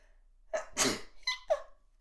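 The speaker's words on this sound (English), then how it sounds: "I think I'm going to sneeze." A single close sneeze with a sharp intake of breath before it, followed by a couple of short breathy sniffs.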